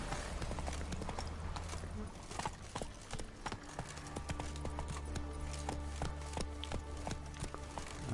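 Roach, Geralt's horse in the video game The Witcher 3: Wild Hunt, gallops with steady, rhythmic clip-clop hoofbeats over a low game soundtrack drone, with a brief pause and then a renewed run, fairly close and continuous.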